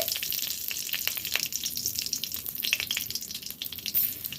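Whole dried red chillies and cardamom pods crackle and sizzle in hot oil, a steady close frying hiss scattered with small sharp pops, the tempering for a vegetarian ghugni.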